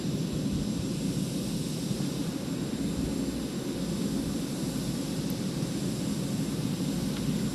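An F/A-18 jet flying in the video game Arma 3 holds a constant roaring engine whoosh, a loud, even wash of jet noise with a thin high whine and no speech.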